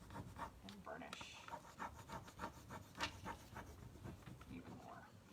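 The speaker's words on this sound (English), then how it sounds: "Lightly burnishing these ones so they kind of lay down" Rub-on transfers being lightly burnished onto a surface with a tool, a faint, close, continuous scratchy rubbing in short back-and-forth strokes, very quiet, with breathy speech mixed in.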